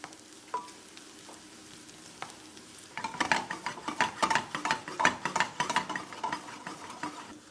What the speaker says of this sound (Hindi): प्याज को बेसिकली ब्राउन करना है, भूरा करना है, बरिस्ता बनाना है इसका